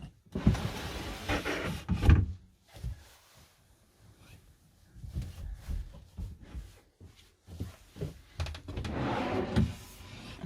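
Scraping, sliding bumps and knocks as a motorhome bed section is pulled out to join two single beds, with quiet pauses between bursts of movement.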